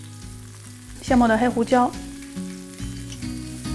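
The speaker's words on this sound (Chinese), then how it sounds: "开中大火热锅，倒一点橄榄油，牛排下锅" Thawed, salted steak sizzles in olive oil in a pan heated over medium-high, a steady frying hiss under a short stretch of speech.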